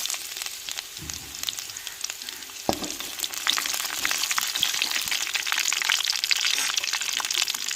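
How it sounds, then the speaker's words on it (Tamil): Mustard seeds, curry leaves and dried chillies hit hot oil with a sudden sputter that grows into a loud, dense crackling sizzle, lasting to the end with a few brief knocks. "எண்ணெய் சூடாக இருக்குங்க கடுகு போட்டுக்கிறோம் ரெண்டு கருவேப்பிலை போட்டுக்கிறோம் வத்தல் சேர்த்துக்கிறோம்"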